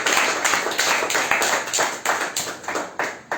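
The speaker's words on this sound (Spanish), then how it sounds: "denle una fuerte ofrenda de aplauso al Rey que vive por los siglos de los" A church congregation gives rhythmic, loud applause that sounds as a series of regular clapping bursts, pulsing in unison for a few seconds.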